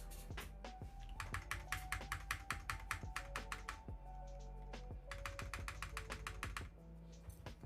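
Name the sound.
typing on Glorious GMMK Pro mechanical keyboard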